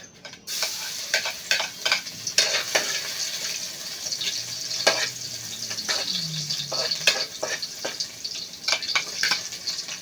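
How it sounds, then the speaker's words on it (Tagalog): Garlic and onion sauté in a pan with a steady sizzle, broken by frequent sharp scrapes and clicks of a utensil stirring them. The sound is close and there is no talking. "First is, gisa natin yung bawang at saka sibuyas."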